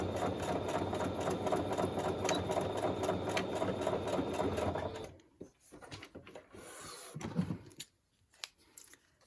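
A sewing machine stitching a fabric tag runs steadily and loudly with a fast, even whir for about five seconds, then stops, leaving scattered handling clicks and rustles of fabric.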